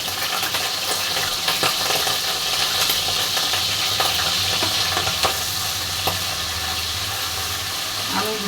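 Onions drop into hot oil in a wok for a home-style Bangla beef tripe dish, producing a loud, steady sizzle and hiss with occasional small clinks throughout.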